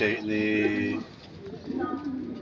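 Racing pigeons coo in soft, throaty bursts close by at a loft, with a short pause before another round of cooing.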